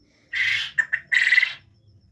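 Quail calling up close: a loud, harsh burst, two quick chirps, then another long raspy call, with nothing else heard; laying quails kept on a farm.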